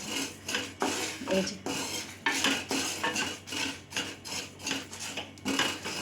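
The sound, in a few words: dry-roasting spice mix in a dry wok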